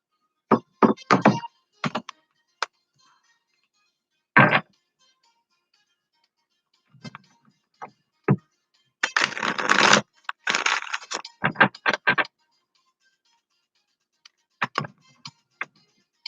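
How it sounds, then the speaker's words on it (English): Playing cards are shuffled by hand at close range in irregular bursts: sharp taps and snaps, then a longer riffling flurry around the middle, separated by quiet gaps and a few scattered clicks. "while I shuffle cards"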